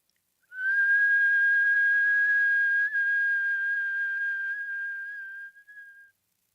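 A single sustained whistle made by breathing in through the mouth, a clear steady tone held for several seconds that fades and wavers at the end, heard alone in silence.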